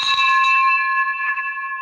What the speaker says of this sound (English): I broke the bell.